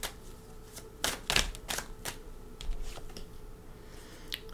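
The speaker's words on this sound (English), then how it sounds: "All right, one more shuffle." A deck of tarot cards being shuffled close by, with a quick flurry of crisp riffling clicks and taps in uneven bursts, fairly quiet, no talking.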